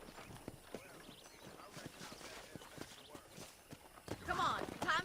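Horse hooves clip-clop at a walking pace in the video game Red Dead Redemption, a steady run of distinct fairly close hoof strikes, with a brief horse whinny and talking near the end.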